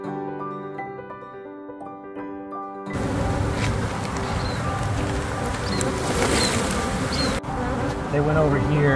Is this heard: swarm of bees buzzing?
yes